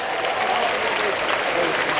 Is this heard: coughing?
no